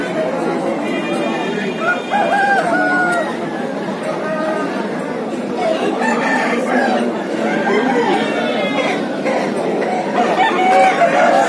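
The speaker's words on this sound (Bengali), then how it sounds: "এই পাশটা পুরো দেশি মুরগির মার্কেট" Roosters crow repeatedly and hens cluck amid the busy chatter of a village market for native chickens, with the birds' calls overlapping steadily and close by throughout.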